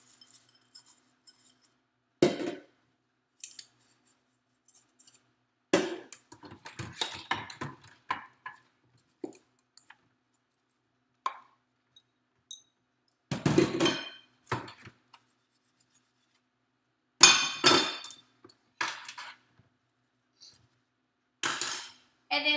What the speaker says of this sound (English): So I'm going to go ahead and do step 2 and scrub the dishes.